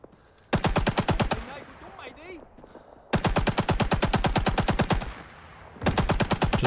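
An RP-46 machine gun in the Rising Storm 2 video game rattles off three long, rapid automatic bursts close up, with quieter gaps between them where faint game noise and a voice come through.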